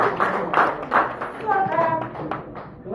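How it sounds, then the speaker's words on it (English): A few brief rounds of hand clapping ring out from a small group at a training workshop, with talking mixed in around them. "Clap for her."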